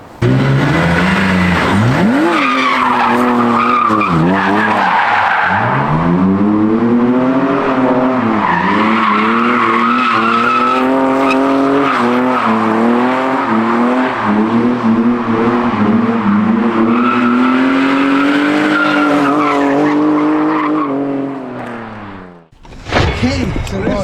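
A BMW E46 drifting on a street, tyres squealing and skidding over a loud, revving engine whose pitch swoops up and down through long slides. The sound cuts off abruptly near the end, with a short burst of noise after it.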